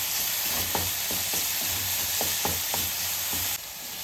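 A sweet filling with cardamom powder being mixed in a hot pan, a steady frying hiss with regular soft spatula scrapes, close and continuous, no voices.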